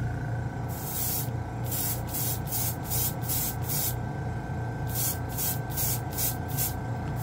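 An airbrush sprays white Vallejo Game Air paint in a series of short hissing bursts, a cluster of quick pulses followed by a pause and then another run, close and fairly loud over a steady background hum.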